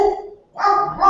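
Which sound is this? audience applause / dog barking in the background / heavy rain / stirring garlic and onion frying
dog barking in the background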